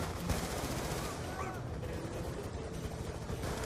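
Rapid automatic gunfire from Call of Duty: Black Ops 2 crackles dense and continuous in the game mix, with a louder burst near the start and a steady clatter of shots throughout.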